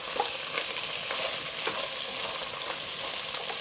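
Ground meat frying in a pan, a continuous close sizzle with soft scraping stirs and occasional spatula knocks, no talk over it.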